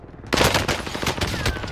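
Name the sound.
gunfire in a gunfight in the video game Warzone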